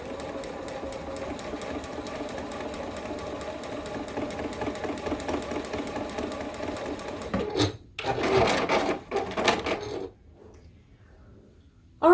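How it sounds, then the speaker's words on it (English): A sewing machine stitches a quilt block in a steady, rapid mechanical whir with a fine rhythmic clatter, pauses briefly, runs again in short bursts and then stops. "I am sewing at an angle here"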